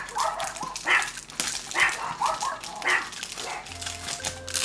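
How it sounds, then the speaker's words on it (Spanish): Several dogs bark repeatedly in a home, loud and close, in uneven bursts with a few higher yips, continuing without pause across the whole stretch. "Y mis perros ladrando, no se callan, tío."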